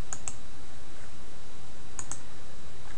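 A few sharp computer mouse clicks in drafting software, two pairs spaced apart, faint and close against quiet room hiss, with no talking.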